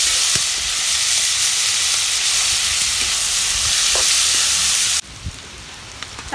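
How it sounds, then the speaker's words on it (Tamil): Steady, loud sizzling of shallots and fennel seeds frying in sesame oil fills the clip, with a few light clinks of a utensil stirring. "சோம்பு பொரிஞ்சிருச்சு, வெங்காயம் சின்ன வெங்காயம் நறுக்கி வச்சுட்டு போடலாம்."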